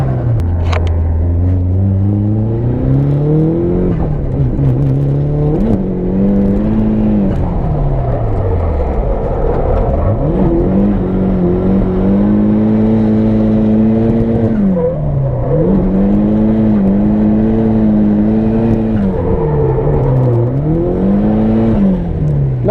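Nissan S13 engine revving hard through a first lap of driving, loud and close, pitch climbing and dropping with each gear change and throttle lift, steady roar throughout with no talk.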